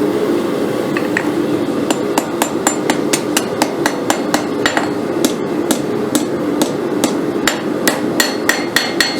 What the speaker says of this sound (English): with a sweeping, glancing motion, just go ahead and form the tip of the knife